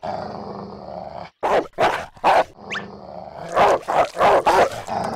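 Cartoon dog barking and growling in a series of loud, close bursts separated by short gaps.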